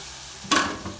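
A spoon stirs béchamel sauce in a hot pan as broth is added a little at a time, a steady close sizzle with a brief louder scrape of stirring midway.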